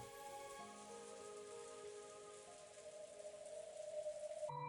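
Cold rain beats down steadily as a dense, even patter, with soft sustained musical tones ringing over it and a slight swell near the end.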